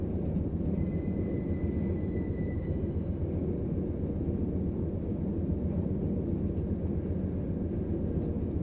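A train passes in a commuter rail corridor simulation game, a steady, loud rumble of wheels and rail running continuously, with faint high tonal whines in the first few seconds.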